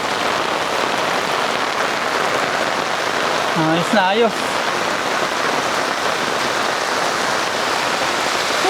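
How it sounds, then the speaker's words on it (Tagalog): Heavy rain pours steadily on a small flooded farm, a dense, constant hiss throughout, with a voice speaking briefly partway through. "Lakas ng ulan, oh. Grabing ulan yan."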